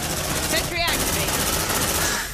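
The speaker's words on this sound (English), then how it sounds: "Deploying sentry gun." A sentry gun in the video game Aliens: Dark Descent fires a steady stream of rapid automatic shots, loud and continuous, mixed with other game sounds.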